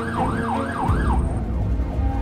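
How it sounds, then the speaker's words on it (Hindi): An ambulance siren wails in a rising and falling pattern, loud and close, over a steady vehicle engine rumble. "सायरन ऑन करो जल्दी।"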